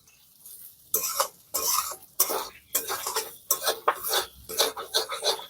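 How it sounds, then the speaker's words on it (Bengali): Spices, including asafoetida, stir-fried in a pan for samosa filling: a utensil scrapes the pan in quick, uneven bursts of rasping strokes, close and moderately loud, with no talk. "মশলাগুলো দেওয়ার পর আমি খুব ভালো করে একটু ভেজে নিয়েছি।"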